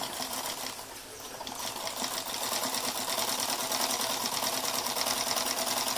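A sewing machine runs steadily at close range, stitching a fabric face mask with a continuous rapid mechanical chatter that holds its pace without pause.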